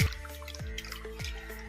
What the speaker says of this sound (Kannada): ಈಗ ನೀರು ಹಾಕೋಣ.